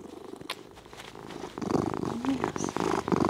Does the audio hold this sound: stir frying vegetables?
no